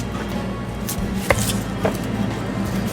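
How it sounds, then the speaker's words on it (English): Onions being sliced with a knife on a board in a restaurant kitchen, with a few crisp cuts over a steady background hum. "I'm going to slice up the onions"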